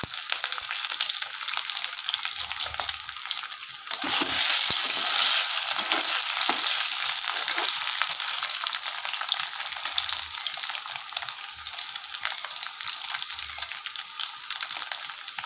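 Paneer pieces fry in a pan with a loud, continuous sizzle that swells after a few seconds and holds steady, with occasional soft stirring scrapes.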